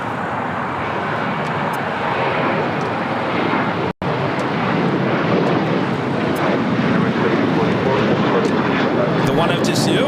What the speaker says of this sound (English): This is Delta Airlines 1865 taking off to Puerto Vallarta